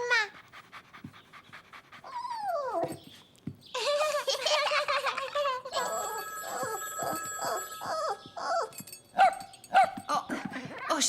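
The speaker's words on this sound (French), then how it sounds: "ce petit chien jappe chaque fois que mon téléphone sonne" A small dog yaps and pants excitedly in a cartoon park scene while a telephone rings, the sharp yips coming in quick bursts that overlap the ringing and a speaking voice.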